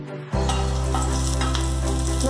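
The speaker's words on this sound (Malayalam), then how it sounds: "2 വറ്റൽമുളക് 2 ആയിട്ട് കട്ട് ചെയ്തതും കൂടെ ആഡ് ചെയ്ത് വഴറ്റി കൊടുക്കാം" Onions and halved dried red chillies hit hot oil with a sudden burst of loud, steady sizzling that continues close up, with a low hum beneath.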